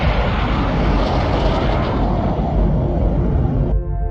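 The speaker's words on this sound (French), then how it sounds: "C'est le bang sonique." A loud, sustained roar from a supersonic airplane fills the whole span with broad rumbling noise, cutting off abruptly near the end as a faint tonal tail remains.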